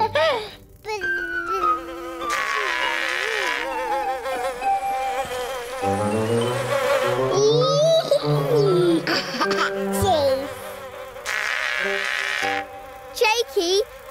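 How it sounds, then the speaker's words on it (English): Cartoon purple space bees buzz in a continuous high, whining drone that rises and falls in pitch, with voices speaking over parts of it. "purple space bees are making all this sticky space honey"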